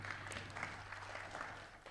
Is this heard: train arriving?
no